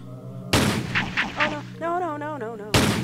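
Gunfire in the video game Dreamland R: Final Mix, with two loud booming shots at the start and end and game sounds and chirps between them.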